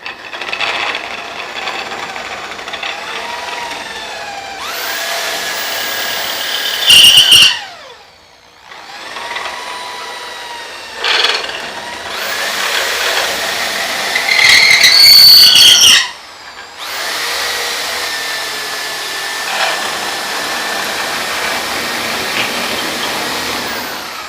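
An electric drill spins a wooden dowel in a woodworking shop, giving loud, close motor whines in three long bursts separated by brief pauses, with sharp squeals and rattles at the end of each run.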